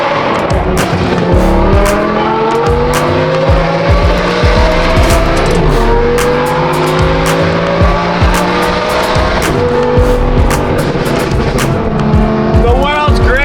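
5.2-litre V10 car accelerating hard alongside a single-turbo F80, loud close engine roar with rising and falling revs, tire squeal and engine tones overlapping the whole time.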